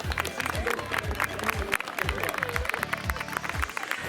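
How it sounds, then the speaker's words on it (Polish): Spectators at a women's football tournament applaud organizers and referees, scattered clapping amid crowd noise, with a voice talking over it. "proponuję ogromne brawa dla organizatorów, dla sędziów"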